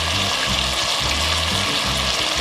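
Tomatoes sautéing with onions in a pan: a loud, constant sizzle and crackle close by, with the rhythmic low scrape of a spatula stirring. No one speaks.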